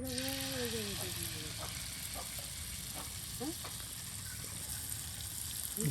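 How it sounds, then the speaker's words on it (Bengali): Egg pitha made from ground rice batter sizzling in hot oil, a steady soft crackle of frying throughout, with a voice talking over it. "গরম তেলে নানি একদম হাত চুবিয়ে ডিম পিঠা তৈরি করতেছে।"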